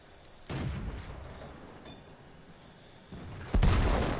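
Two heavy tank cannon blasts boom out in World of Tanks, one near the start and a louder one toward the end, each a deep broadband thump over a low rumbling battlefield background.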